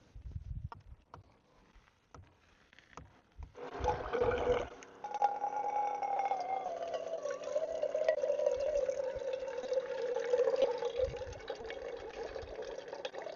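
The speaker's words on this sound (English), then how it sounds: "Let's get some water in the kettle." Water is poured into a kettle outdoors at an off-grid camp stove setup, a steady splashing stream whose tone slowly drops as the vessel fills, preceded by a few soft knocks and clatters.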